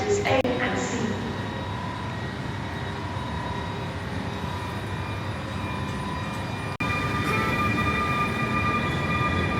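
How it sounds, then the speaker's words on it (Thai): Steady low rumble of a Swiss train running through a station, with a continuous wash of mechanical noise and a brief break near the end; faint voices underneath. "อันนี้ก็จะเป็นสภาพบรรยากาศภายในสถานีรถไฟนะครับ"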